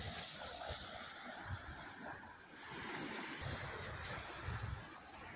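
Waves wash onto a sandy beach at Fort Flagler State Park in a soft, continuous surf, with some wind buffeting the microphone and no voices.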